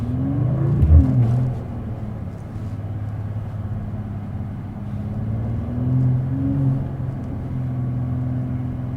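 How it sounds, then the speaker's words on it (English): A 2026 Mercedes-AMG CLE 53 engine hums and rumbles inside the cabin while driving, a low steady drone with brief rises in pitch as it accelerates, no voices. "The sound is amazing in the interior."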